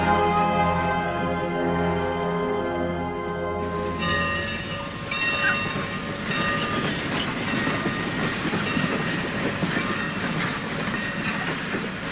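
A train rumbles along the rails with rhythmic clickety-clack, a sustained horn-like tone fading early, then steady rolling noise throughout.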